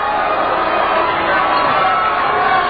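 Crowd noise from Southwestern fans at a high-school basketball game against Somerset, a steady dense roar of voices and cheering that stays loud and constant throughout.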